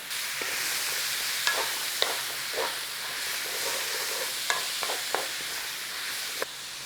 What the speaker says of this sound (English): We'll chuck the mushrooms in. We get the mushrooms in because we're trying to drive off some of that moisture.